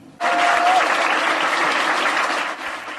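Loud audience applause at a British political speech on the climate emergency, a dense burst of many people clapping that starts abruptly after a brief voice and keeps going before easing slightly at the end.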